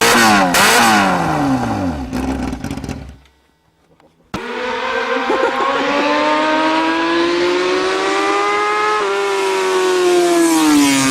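A Yamaha R6 motorcycle engine with no exhaust fitted revs loudly and harshly, climbing and falling in pitch, cutting out briefly, then roaring back and holding a high, raw whine close by.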